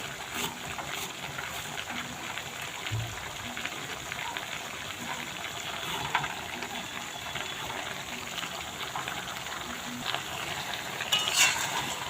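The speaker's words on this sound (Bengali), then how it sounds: "টমেটো দিয়েছে, টমেটো দিয়ে নাড়াচাড়া। নাড়াচাড়া দিয়ে আবার কষানো হবে।" Fish with tomato frying and being stirred in a pan, giving a steady sizzle with soft scraping throughout, close and moderately loud, no talking.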